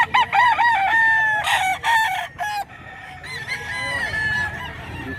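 Fighting roosters at a gamefowl market in Bocaue, Bulacan, crowing in repeated loud calls close by, with clucking and several birds overlapping, and faint voices in the background.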